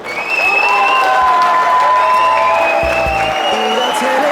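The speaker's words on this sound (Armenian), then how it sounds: "Եկեք թող Հարսի կողմը ծափեր տա" Wedding guests on the bride's side clap together in a loud, dense burst of applause that rises quickly and holds steady, with music or voices ringing faintly above the clapping.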